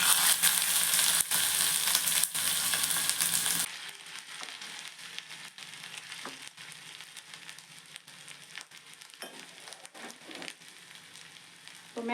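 Mustard seeds and ginger hit hot oil in a frying pan, with a loud, dense sizzle at first that drops abruptly to a quieter steady crackle with scattered pops, with no voices.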